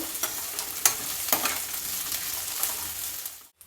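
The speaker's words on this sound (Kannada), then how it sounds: "ಒಂದು ದೊಡ್ಡ ಸೈಜಿನ ಈರುಳ್ಳಿನ ಉದ್ದುದ್ದಕ್ಕೆ ಹಚ್ಚಿಟ್ಕೊಂಡಿದ್ದೀನಿ ಚೆನ್ನಾಗಿ ಫ್ರೈ ಮಾಡಿಕೊಳ್ಬೇಕು" A large onion, sliced lengthwise, frying in a pan: a soft, steady sizzle with a few light stirring scrapes, fairly quiet and without talk, cutting out briefly at the very end.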